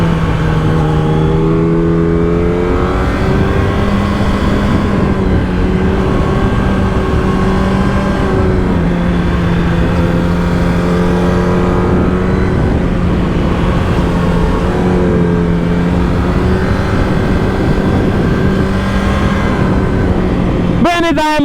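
Motorcycle on a road ride, its engine droning continuously and close, pitch repeatedly climbing through gears under acceleration then easing off, with wind noise throughout.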